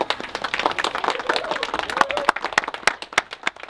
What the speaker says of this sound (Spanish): Aplauso para todos los niños.